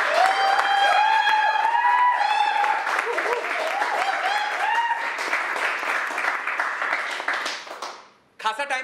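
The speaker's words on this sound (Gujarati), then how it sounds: "મારે હજી એક વખત જોરદાર તાળીઓ તમારી જોઈએ છે." An audience at a live stage event for the Gujarati film Aum Mangalam Singlem claps in a sustained wash of applause that fades near the end, while an amplified voice talks loudly over it.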